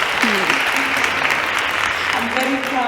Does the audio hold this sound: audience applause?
yes